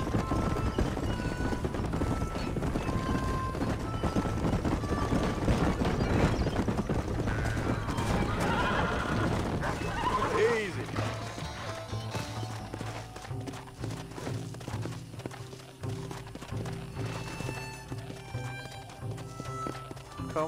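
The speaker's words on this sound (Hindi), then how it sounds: "घोड़ा भी इतना सुस्त स्पीड से चल रहा है।" Horse hooves clip-clopping in a Red Dead Redemption wild west horse race, a steady rhythmic gallop running continuously under game music and ambience, with a brief whinny partway through.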